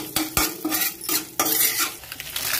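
Coriander seeds, cumin and urad dal fry in hot oil and are stirred with a utensil, so a close sizzle runs under repeated scraping and clinking strokes, with no voices.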